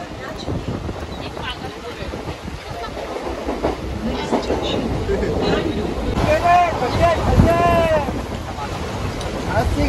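A train passes beside Marine Drive, a rumbling, clattering rush with a few tonal squeals or whines partway through, heard over busy roadside noise and nearby voices.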